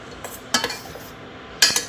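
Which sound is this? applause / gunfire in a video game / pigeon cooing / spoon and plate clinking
spoon and plate clinking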